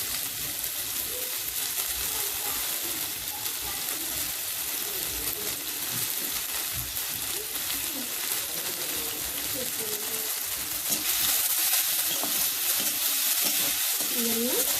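Onions fry in a pan with a continuous crackling sizzle, while a voice talks quietly over the cooking noise throughout.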